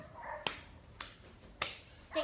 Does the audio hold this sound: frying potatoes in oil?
no